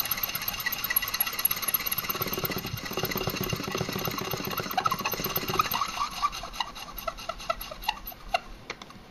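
A power trimmer cuts a .45 ACP brass case down to 0.755 inch for a .45 GAP case, giving a steady, continuous rasping, grinding whir that runs for about nine seconds at moderate level, close by and without speech.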